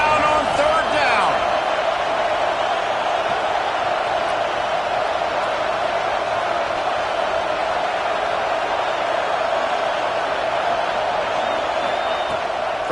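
A stadium crowd at a Florida Gators football game roars steadily on third down, a dense continuous wash of cheering and noise that stays loud throughout, with no distinct pauses.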